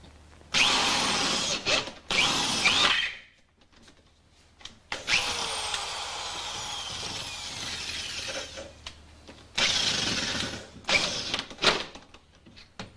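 Power drill boring into a lock, attacking at an angle to reach the bolt: several loud bursts of whining, grinding drilling separated by short pauses, close up, with a long stretch of steadier cutting in the middle; no speech.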